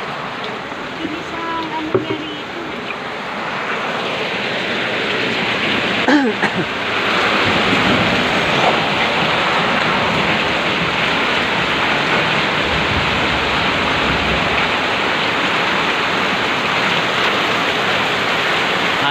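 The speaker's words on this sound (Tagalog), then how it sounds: "Ang lakas ng ulan." Heavy rain pours down in a dense, roaring hiss during a flood around a house. The downpour grows steadier and louder, while someone talks over it.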